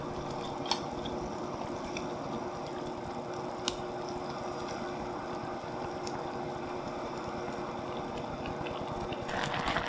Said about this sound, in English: Now we're boiling the noodles.